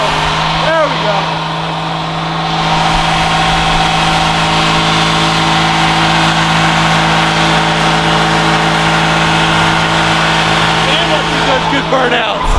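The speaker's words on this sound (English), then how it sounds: "Good burnouts." Datsun car engine held at a steady loud roar and rev during a burnout on a fresh build, close and continuous throughout, with faint tire squeal flickers near the start and end.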